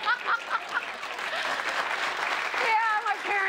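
Studio audience at a late-night talk show applauding a guest host's parents, a dense steady clapping wash lasting throughout, with a few cheers and whoops rising near the end.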